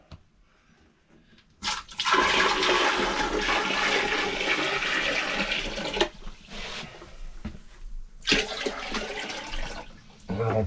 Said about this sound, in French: je fous de l'eau partout